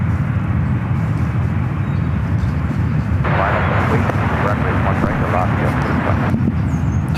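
Steady loud jet engine roar from an airplane on the runway at SFO, a broad continuous rumble that swells brighter partway through and holds without letup.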